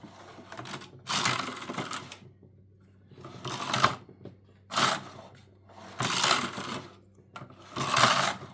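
A Knittax/Knitking AM3 knitting machine ribber, not yet lubricated, running in five rattling, clattering carriage passes of about a second each, separated by short quiet gaps, close and fairly loud.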